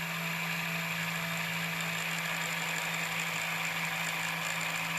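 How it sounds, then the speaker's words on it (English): Wind-up spring motor of a Gakken Premium Gramophone Kit running steadily, a loud continuous whirring drone with a ratcheting, gear-like texture throughout and no pauses. "It actually sounds like an electric motor, even though it's a wind-up motor, strangely enough."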